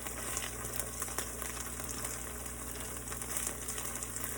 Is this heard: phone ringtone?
no